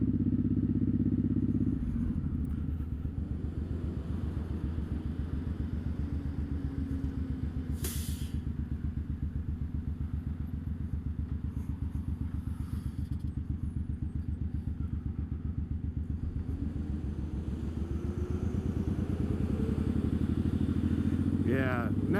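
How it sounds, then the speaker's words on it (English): A heavy cruiser motorcycle engine throbs and rumbles at low pitch while riding, with a deep pulsing exhaust note that sags and swells as the engine brakes, heard close and steady throughout. "Wow, that engine braking though."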